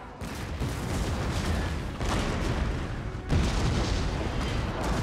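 Cannon artillery fire in Napoleon Total War, a dense barrage of booming blasts rolling in three heavy waves with a continuous rumbling roar between them, loud and without speech.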